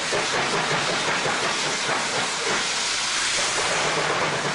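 Steady, loud hiss of steam from a locomotive pulling a train in an animated cartoon, a continuous broadband rush with no talking over it.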